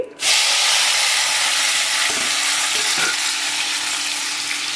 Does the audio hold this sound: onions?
yes